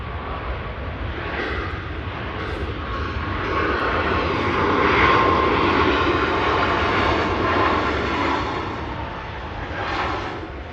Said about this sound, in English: Ryanair just touching down there on 23 right